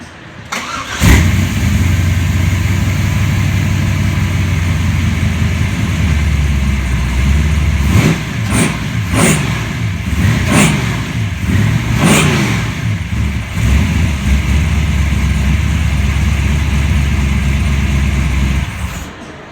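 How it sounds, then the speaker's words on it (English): A 700-horsepower car engine cranks and fires, then idles with a steady loud rumble and is blipped through several sharp revs before settling back to a rough idle, heard up close with no talking. "I'll fire it up for you guys"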